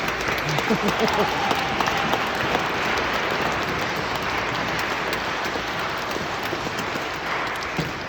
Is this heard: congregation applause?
yes